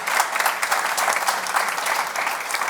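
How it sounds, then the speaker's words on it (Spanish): An audience at a conference panel in Madrid claps steadily, a dense, continuous wash of applause filling the room from start to finish with no voices over it. "Démosle un gran aplauso, por favor, a Hermann."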